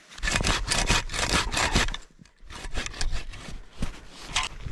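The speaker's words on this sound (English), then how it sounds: "First time using the saw this winter." Hand saw cutting firewood at a cold winter campsite, rapid rhythmic rasping strokes, close and fairly loud, with a brief pause midway before the sawing resumes.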